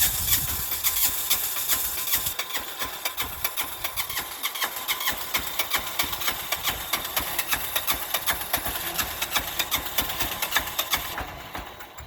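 A 6HP 178F single-cylinder diesel engine runs just after a cold winter start, with a rapid, rough, knocking chug that stays steady and loud at close range throughout.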